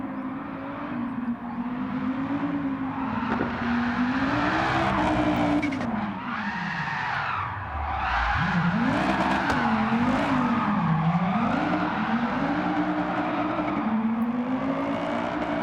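An AWD car drifts with the handbrake in Gran Turismo 7. The engine roars and revs continuously while the tires squeal through linked slides, loud and close throughout.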